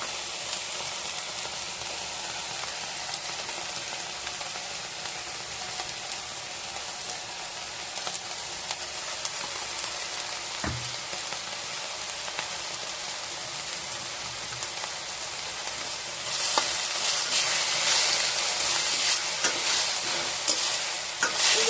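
Ground spice paste sizzles and fries steadily in a pan as valai poo (banana flower) poriyal cooks, with stirring scrapes throughout and the sizzle growing louder toward the end, no voices present.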